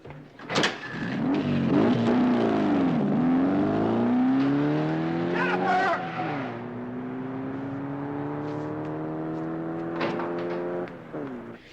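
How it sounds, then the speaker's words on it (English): A white foreign sports car starts up and drives off, its engine revving and climbing through gears in rising sweeps, with a couple of sharp knocks along the way, fading slightly toward the end. "Jennifer just drove off with somebody in a white sports car."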